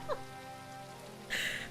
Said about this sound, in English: It's even raining in the game.